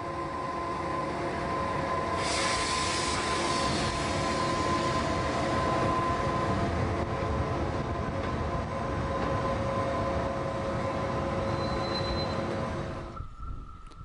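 A 1963 DB V60 diesel locomotive running on rails, with a steady, fairly loud diesel drone and rolling rumble and a faint tonal whine, holding constant before dropping off at the end.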